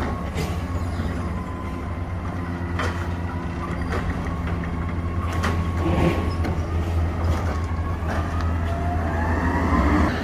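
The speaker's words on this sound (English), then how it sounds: "A little noisy here. Garbage man." Garbage truck collecting garbage nearby, a steady loud diesel engine drone with low hum, punctuated by clanks and mechanical whines of the loading gear throughout, no talking.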